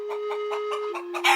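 Cartoon chickens on a farm cluck in a quick run of short, evenly spaced calls over a steady tone, close and clear with no voices, ending in a brighter burst.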